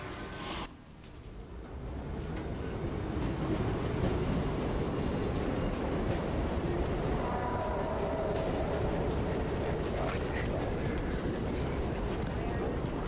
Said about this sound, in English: Crazy son of a bitch with a train!